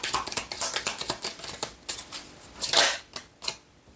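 A final tarot card is drawn from the deck, giving a quick series of soft papery flicks and shuffling snaps, close and dry, ending with a slightly louder slide of card stock.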